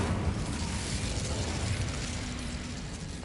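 Incendio fire spell cast in Hogwarts Legacy on PS5, a dense low whooshing roar of flames, loud and steady for several seconds with no talk.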